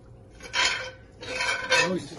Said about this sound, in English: the mushrooms in this pan with the juices and a little butter